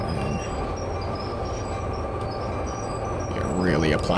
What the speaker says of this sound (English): We are really applying train brake here.